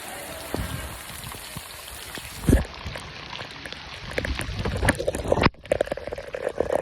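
Heavy rain pours over a village in Punjab, a steady hiss of drops drumming on surfaces with a few louder close splashes and a brief dropout near the end.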